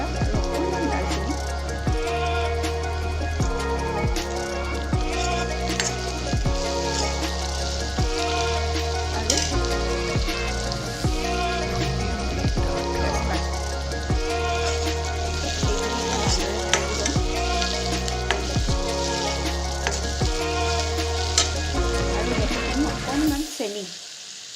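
Two chilies, cloves, cardamom pods and a little cinnamon crackle and sizzle in hot oil, a steady dense frying hiss with scattered pops throughout, close and fairly loud, cut off abruptly at the end.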